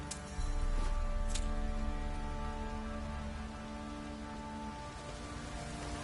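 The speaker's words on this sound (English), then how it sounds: "Oh, it's drizzling." Light rain drizzles steadily in The Witcher video game, a soft, even patter on surfaces that carries on alone with no talk.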